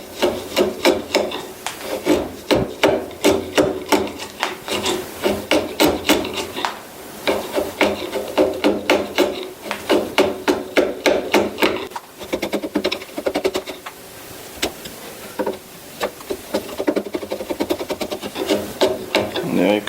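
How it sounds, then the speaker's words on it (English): A chisel shapes a curly maple guitar neck, making repeated rasping, scraping wood strokes in a quick, uneven rhythm. The strokes are close and fairly loud, with brief pauses between bursts. "So I'll start with the chisel,"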